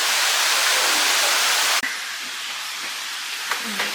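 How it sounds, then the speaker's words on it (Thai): A mountain stream below rushes and hisses loudly and evenly, then drops to a softer flowing wash after a sudden bump, with a few faint knocks. "ข้างล่างคือเป็นลำธารเงี้ย"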